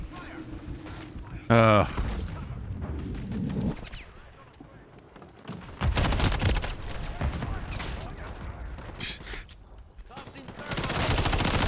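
Gunfire bursts from a Call of Duty: Modern Warfare 3 match, with loud volleys mixed into game effects and a voice talking over the action.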